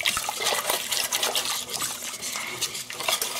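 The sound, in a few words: ladling vegan pumpkin custard mixture into ramekins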